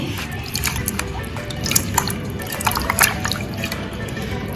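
Water sloshes and drips steadily as small whole potatoes are rubbed and rinsed in a basin, with soft splashes throughout and no talking.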